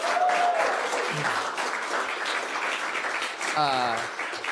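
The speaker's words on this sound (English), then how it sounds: "So applause to all of y'all for taking some risks." Festival audience clapping for risk-taking candidates, a moderate wash of applause mixed with a few voices and brief tonal sounds.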